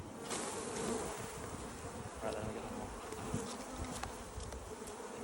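An agitated honeybee colony buzzing during a hive removal, a dense, continuous swarm hum with individual bees droning close by, steady and fairly quiet, no talking.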